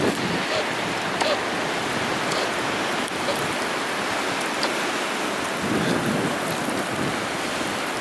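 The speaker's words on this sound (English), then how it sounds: "Yeah, the storm's on pretty good now." A March snowstorm at a cove outdoors roars as a dense, constant wash of wind-driven noise, loud and unbroken, with no voices over it.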